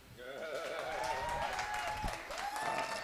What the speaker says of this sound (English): a round of applause for Hakeem